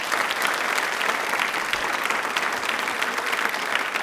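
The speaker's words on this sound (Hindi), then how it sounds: "तालियां एक बार जोरदार हो जाएं प्लीज।" Studio audience applauding steadily on a televised general-knowledge quiz show, a dense, even clatter of many hands sustained loud for the whole stretch with no voices over it.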